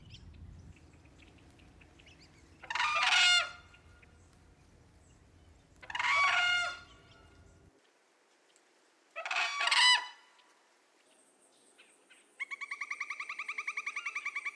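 Whooping cranes give three loud, separate bursts of rattling, trumpeting bugle calls at steady intervals, with a low rumble beneath the first half and a faint, higher steady bird tone near the end.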